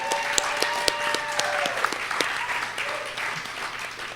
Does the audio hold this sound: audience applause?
yes